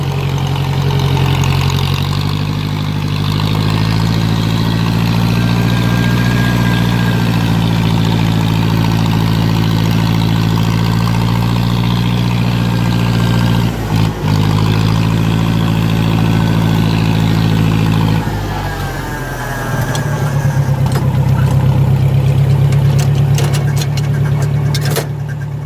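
A John Deere 2010 tractor engine runs loudly up close, a steady low idle that shifts in pitch partway through and settles into a different running note near the end, with no one talking.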